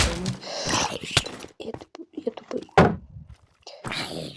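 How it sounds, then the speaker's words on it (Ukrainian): In the Minecraft video game a mob bashes at a door, with dull wooden thunks and knocks at intervals that are interleaved with a person talking. "Вона ламає двері."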